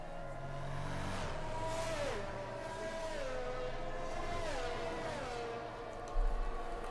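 Racing cars in a Racers Driving League round at Azerbaijan, trailing an Aston Martin Vantage safety car in a racing game: steady engine drone with rising and falling pitch sweeps as revs climb and shift, and a brief thump near the end.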